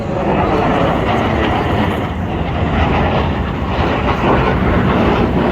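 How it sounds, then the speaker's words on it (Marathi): An Indian Air Force fighter jet roars overhead at the Marine Drive air show in Mumbai, a loud, continuous broadband rush that holds steady throughout without any talking. "फायटर जेट पाहू शकता हे बघा फ्लाय ऑफ होत आहे."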